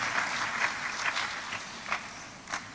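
An audience at the opening of a 2023 APEKSI regional working meeting in Indonesia applauds young participants, a soft steady patter of clapping with a few louder accents, fairly distant.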